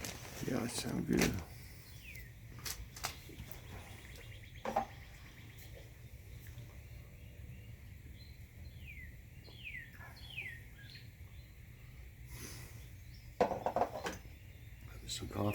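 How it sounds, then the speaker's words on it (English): Birds chirp and sing intermittently in the distance, with scattered soft knocks and rustles in a quiet outdoor setting. "Birds sound good today."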